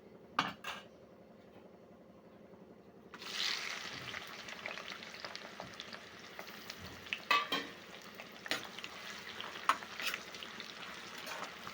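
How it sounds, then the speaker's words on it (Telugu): Whole spices fry in hot oil for a restaurant-style vegetable biryani, starting as quiet clinks, then a steady bright sizzle that swells in, with occasional utensil taps and scrapes on the pan. "స్పైసెస్ అన్నీ ఇలా ఫ్రై అవుతున్నాయి కదా"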